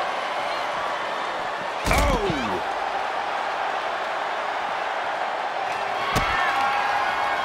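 Two loud metal ambulance doors slam at a wrestling match, one a few seconds after the other, each a sharp, rattling bang over a constant arena crowd roar.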